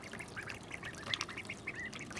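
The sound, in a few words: ducks quacking at new duck pool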